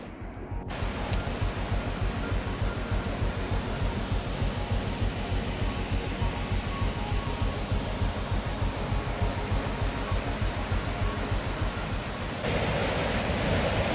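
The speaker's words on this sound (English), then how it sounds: "You can actually hear the waterfall. It's roaring." A roaring waterfall gives off a constant, dense rush of white water that fills the whole scene. The roar stays loud and even throughout, with no voices.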